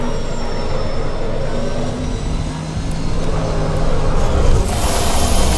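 A racing car's engine roars at full throttle in the Assetto Corsa EVO driving game as the car oversteers and slides, a loud continuous drone that swells toward the end.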